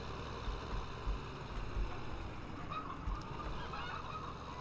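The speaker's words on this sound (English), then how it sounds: "I don't know what you imaginary chickens are squawking about" Chickens squawk in the Farming Simulator 15 farming game. The honking, fowl-like calls are faint and intermittent over a steady low background hum.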